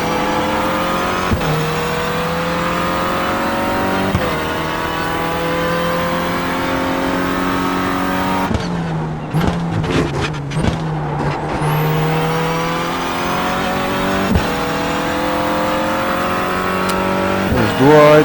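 Renault Clio Cup race car engine in the iRacing simulator, revving up and shifting again and again in rising sweeps, loud and close, with a rougher noisy patch of braking or tyre scrub partway through.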